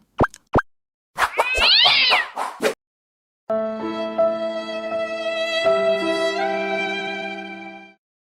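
A cat gives a rising, wavering meow after two quick plopping sounds, then a long sustained tonal cry follows, loud and close, with no one speaking.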